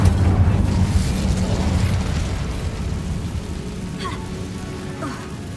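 An Incendio fire spell is cast in Hogwarts Legacy, opening with a loud whooshing burst of flame that fades into a crackling, rumbling hiss with a few faint pops near the end.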